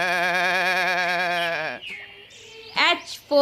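A cartoon goat gives a long, loud, wavering bleat in a children's alphabet song, followed by a few shorter squeaky effect sounds and a brief sung note.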